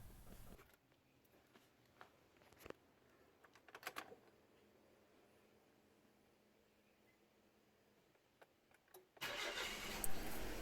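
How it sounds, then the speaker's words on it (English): A Kia Rio engine cranks and catches near the end, rising to a steady idle after a quiet stretch with a few faint clicks and bumps. "let's start the car"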